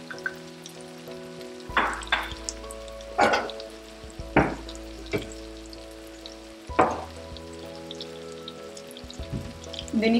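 Masala-coated fish pieces frying in a pan give off sparse, sharp pops and crackles every second or two over a low, steady background hum.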